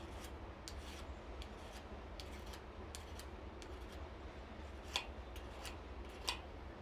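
A hand file rasps burrs off a piece of forged metal in a smithy with quick, faint scraping strokes over a low background hum, broken by a couple of sharper ticks.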